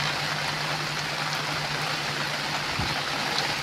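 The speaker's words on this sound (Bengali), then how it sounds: "তার সঙ্গে মুষলধারা বৃষ্টি" Torrential rain pours onto a river during a storm, heard from a fishing boat as a dense, even hiss with a low steady hum beneath and a few soft thumps near the end.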